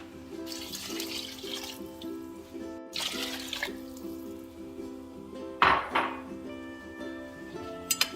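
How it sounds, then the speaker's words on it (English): Water splashes into a pot of vegetables for a vegetarian Nizami curry, a soft trickling pour with dripping and a few metallic clinks from the pot, heard alone. "Now we add substantial water and slowly cook the vegetables"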